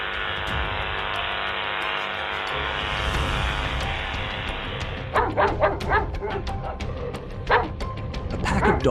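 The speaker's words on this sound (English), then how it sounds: "A pack of dogs stays on high alert as danger approaches." A pack of dogs on high alert barks as danger approaches, with repeated sharp barks and yips over steady background noise, growing busier and louder toward the end.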